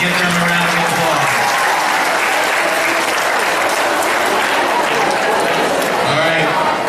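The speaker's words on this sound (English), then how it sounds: "Give them a round of applause." A talent-show audience applauds for Mrs. Teeple and Mr. Reeds, a dense, steady wash of clapping that holds loud and close for about seven seconds, with a voice briefly heard over it near the start and end.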